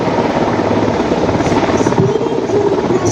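Two Sea King 42C helicopters at a navy air power demonstration, landing marine commandos, make a loud, steady rotor roar and engine whine, continuous and close.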